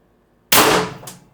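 A single sharp report from an IntruBuster Gen 2 air rifle carbine with a 12-inch .686 barrel at 1100 psi, a sudden loud crack that decays over half a second, with a faint second tap after.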